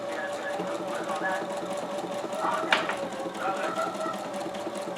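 A Husqvarna sewing machine fitted with a buttonhole foot hums steadily at close range, its continuous mechanical whir running under a person talking.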